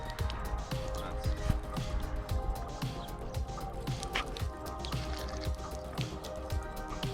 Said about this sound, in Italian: Qui l'acqua esce di lato, vabbè, va bene lo stesso.